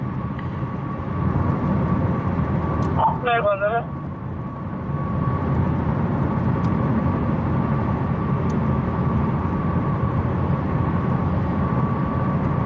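Steady road traffic rumbling at a constant level, with a brief tonal chirp-like burst near the start cutting through the continuous drone of passing vehicles.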